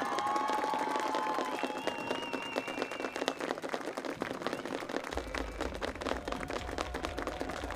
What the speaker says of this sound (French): dans un tonnerre d'applaudissements, accueillons chaleureusement l'édition 2023 de nos pionniers du cégep de Rimouski!